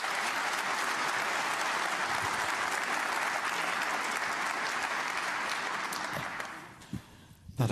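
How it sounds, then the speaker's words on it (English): Steady, dense audience applause fills a snooker tournament hall at the German Masters, holding evenly for several seconds before fading away near the end. "That applause is for Maisie Wen, who's up against Hamid Maya over on table 4"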